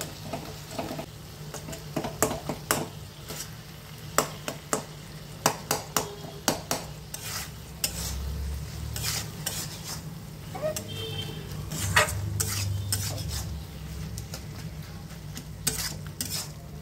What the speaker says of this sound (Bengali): এবার টমেটোগুলোকে একটু খুন্তি দিয়ে থেতো করে দেবো।